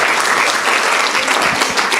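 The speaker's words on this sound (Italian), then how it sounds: "vorrei fare un grande applauso al CIF" Loud sustained applause from an audience at a civic gathering in an Italian city, many hands clapping densely and evenly close by, with no speech on top.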